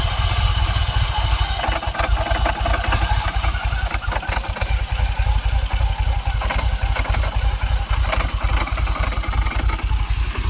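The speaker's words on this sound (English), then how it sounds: "So much about that rattling. That's inside the supercharger." A loud Jaguar XKR (X100) supercharged engine idles at low revs nearby, with a continuous metallic rattle from inside the supercharger chattering beneath the steady rumble.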